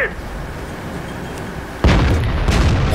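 A tank shell strikes and glances off armour in World of Tanks: after a low rumbling stretch, a sudden loud metallic crack and boom bursts in and rings out with a harsh, echoing tail.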